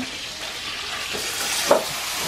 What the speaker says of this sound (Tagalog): niluluto na po yung mga ulam, kakabsat